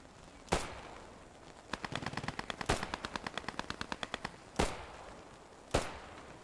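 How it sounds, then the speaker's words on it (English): Machine gun fire in the World War II video game Post Scriptum: a rapid, evenly spaced burst of about twenty shots, framed by several single louder sharp reports, fairly distant with no talk. "I hear shots."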